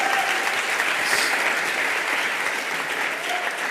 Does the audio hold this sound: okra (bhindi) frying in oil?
no